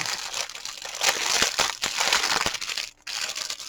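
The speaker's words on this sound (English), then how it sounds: "pull everything out so I can quit rattling the plastic bag" A plastic bag from a diamond painting kit crinkles and rattles up close as it is handled and unpacked, with loud continuous rustling and a short pause near the end.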